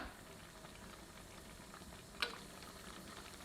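Cashews and raisins roasting in hot ghee in a pan: a faint, even low bubbling and sizzle throughout, with one brief sharp click or scrape midway.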